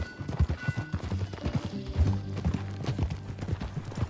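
Horse hooves clip-clop in a steady trotting rhythm in Red Dead Redemption 2, close and clear, with a brief snort or whinny near the start and faint background game ambience.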